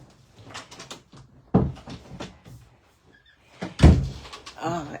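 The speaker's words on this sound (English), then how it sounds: "I'm going to start by closing the door to my craft room" A craft room door is closed, giving two solid thuds about two seconds apart, the second louder, with light handling noises and faint voices around them.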